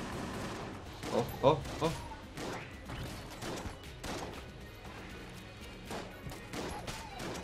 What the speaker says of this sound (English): Why is my shotgun only shooting one bullet? There, it's shooting five.